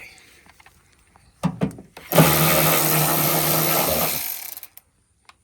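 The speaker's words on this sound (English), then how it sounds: "obviously I have a power tool, but you might not have one" A power tool whirs steadily for about two seconds during a tune-up on a 2010 Chevy Silverado with a cylinder 2 misfire, preceded by a few clicks and clunks of handling.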